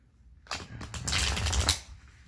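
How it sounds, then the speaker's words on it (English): A deck of cards is riffled close up, starting with a few soft flicks and then building into one loud, fluttering shuffle that ends abruptly. "And just one more shuffle"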